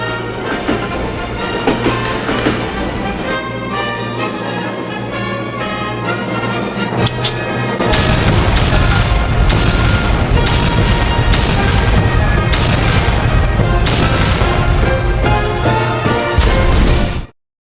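WWI mines detonate under enemy lines near Ypres in June 1917: a loud, sustained roar of booming blasts and rattling gunfire that builds, rumbles continuously, then cuts off abruptly.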